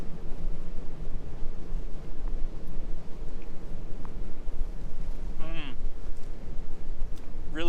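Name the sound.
cold wind blowing at campsite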